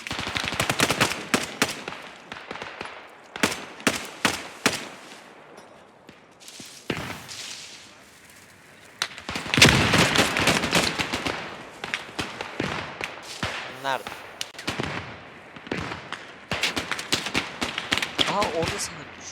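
Bursts of WWII-era rifle and machine-gun fire in the online shooter Post Scriptum, crackling in rapid volleys and single shots at varying distances, with quiet gaps between exchanges and someone talking at times.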